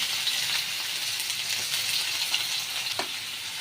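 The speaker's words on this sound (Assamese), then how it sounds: "তেল গৰমেই হ'ল, পিঁয়াজ দি লওঁ।" Sliced onions sizzle steadily in hot oil in a pan, a continuous close frying hiss with a few soft stirring clinks, no voices.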